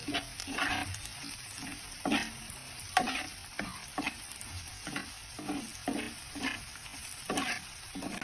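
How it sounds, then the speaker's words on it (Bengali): Onions frying in a pan with chili powder, turmeric, cumin, coriander and garam masala for broiler chicken bhuna, a constant close sizzle broken by regular scraping stir strokes roughly every half second, no talking. "পেঁয়াজটা আরো ভাজা ভাজা করে নেব।"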